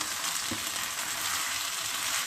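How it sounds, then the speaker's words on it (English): Rice fries in olive oil in a pan, giving a continuous, even sizzle with a faint stirring bump, close and steady throughout, with no voices. "Fry the rice."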